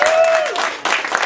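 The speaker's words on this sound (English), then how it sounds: "give the comic book shop one last round of applause" A brief burst of crowd clapping and cheering at a live music show in a comic book shop, loud and close, with a voice ringing out over the start.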